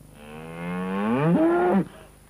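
A single head of cattle gives one long, close moo that rises and then cuts off sharply, with quiet surroundings.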